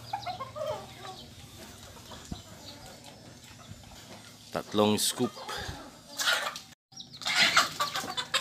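Philippine native chickens cluck and call close by in a farmyard, short bursts scattered over steady background noise, with someone talking over them.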